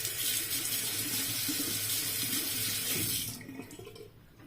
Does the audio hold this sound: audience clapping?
no